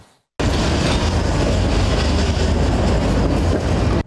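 A number five city tram running along its route toward the Transport University terminus, a loud continuous rumble with rail clatter starting abruptly after a brief silence and staying steady and close throughout.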